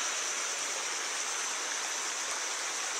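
A constant rushing roar of a fast-flowing mountain torrent fills the whole stretch, dense and hissy, with no talking.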